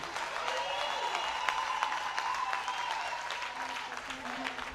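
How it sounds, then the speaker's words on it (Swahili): A church congregation applauds at a ministry anniversary celebration, a steady dense wash of clapping lasting throughout, mixed with a faint sustained tone and crowd noise. "Na mpigie Yesu makofi mazuri"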